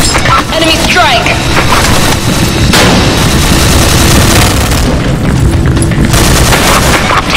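Grenade blasts and gunfire in the PC shooter game Special Force 2, with dense, continuous booms and crackling shots filling the whole stretch at high level, and voices shouting over the combat.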